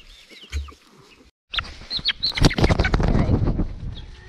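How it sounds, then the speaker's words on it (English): A farmyard chicken near a winter coop gives short, sharp clucks and squawks, while other birds call and rustle close by. "I was trying to get a closer look at that chicken"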